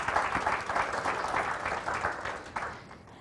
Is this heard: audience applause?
yes